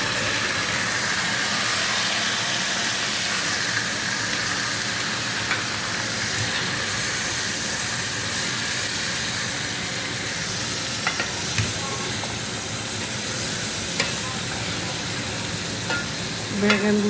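Eggplant pieces fry among golden-brown onions in a pan, giving a steady, close, unbroken sizzle throughout, with a couple of faint utensil clinks near the end.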